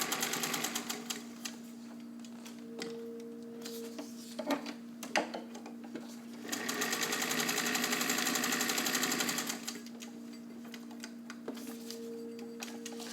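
A vintage all-metal Singer 201K sewing machine stitches through two layers of dense Cordura nylon, a steady close mechanical whir that speeds up into a louder sustained run mid-clip, with ticking needle strokes at the start and finish and no talk.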